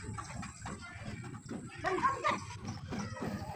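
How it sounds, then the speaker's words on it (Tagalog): Soft clucking of chickens nearby over outdoor background noise, with a slightly louder burst of bird calls in the middle. "May manok sila guys."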